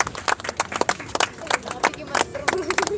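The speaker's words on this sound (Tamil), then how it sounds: "கைத்தட்டுங்க." Scattered hand claps from a small audience, irregular and fairly close, with some murmuring voices underneath, at a Tamil debate event.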